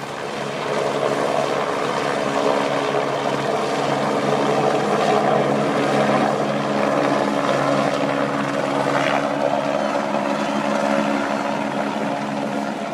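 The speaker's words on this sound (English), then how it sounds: "the helicopter was overhead. You could hear the thwacking of the blades" A helicopter hovers overhead at the Tour de France 2013 Mont Ventoux stage, with a steady, loud thumping rotor drone that continues unbroken throughout, no voices.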